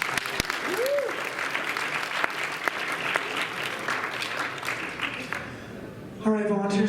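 A Mardi Gras show audience keeps up continuous applause for the volunteers, with scattered sharp claps and a brief whistle. A voice starts speaking as the applause fades.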